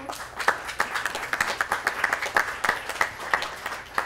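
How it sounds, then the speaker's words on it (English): An audience applauds to welcome Professor Marc Pilisuk at a Project Censored evening event, dense clapping with sharp individual claps standing out, steady and moderately loud for a few seconds. "So please give a warm round of applause and welcome to Professor Marc"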